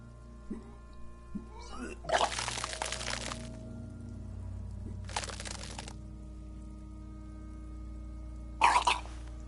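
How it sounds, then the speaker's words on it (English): Character vomiting in the Disco Elysium video game, three separate splattering, gushing bursts spaced a few seconds apart over a quiet low ambient hum. "Your body curls and pushes it out, burst by burst, until a pool of vomit lies under your feet"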